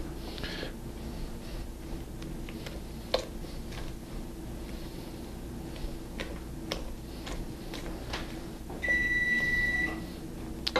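An oven reaches 400 degrees and beeps once preheating is done: a short run of bright electronic beeps near the end, over a steady kitchen hum and faint ticking.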